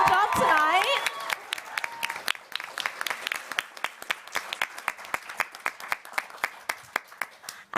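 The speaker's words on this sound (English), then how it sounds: "So can we get a huge round of applause for our candidates, please?" A student union election audience applauds its candidates at a question time night. Voices and a whoop open the clip, then the applause thins into scattered sharp individual claps that fade in the room.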